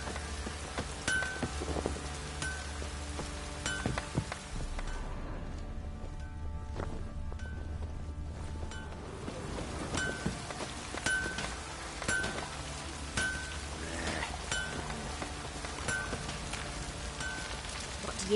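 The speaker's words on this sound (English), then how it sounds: "Oh, it's drizzling." Continuous rain falling in a PS4 video game, a steady patter of drops with scattered light clinks, moderately quiet and unbroken for the whole stretch without speech.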